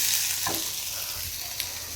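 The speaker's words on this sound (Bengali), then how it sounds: "এখানে হচ্ছে পেঁয়াজ কাঁচা লঙ্কা দিয়ে আলু হচ্ছে ভাজা" Potatoes fry in oil with onion and green chili, a continuous close hissing sizzle with a brief stirring scrape.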